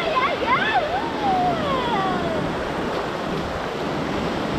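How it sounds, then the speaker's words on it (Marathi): Large ocean waves break at Kashid Beach. A steady, rushing roar of surf continues throughout, with voices and calls heard faintly near the start. "यो लाटा बघ लाटा मोठा आहे."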